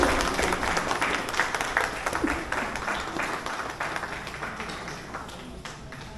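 An outdoor crowd at the Mechukha kayaking challenge applauds a men's kayak cross finalist from Upper Siam, loud, continuous clapping that tapers slightly toward the end.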